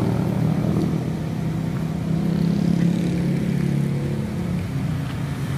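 Jammed traffic fills Malang city streets during the Lebaran homecoming rush, with a steady, close drone of car and motorcycle engines that stays continuous and fairly loud throughout.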